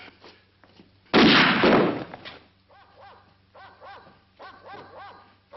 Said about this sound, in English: Manuel, take the dogs and search all around the beach.